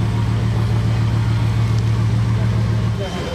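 A Bugatti Veyron circling the casino square gives a loud, steady low engine drone that barely changes for a few seconds, then eases slightly at the end, with a person talking over it.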